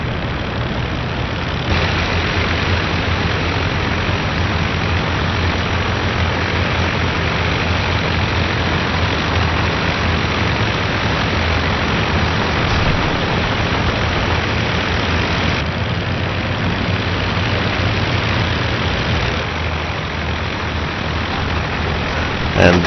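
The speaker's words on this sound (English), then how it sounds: "The engine is really spewing white smoke out." A WWI aircraft engine in the flight simulator game Rise of Flight, trailing white smoke, drones steadily and loudly without a break, a dense continuous roar that stays close throughout.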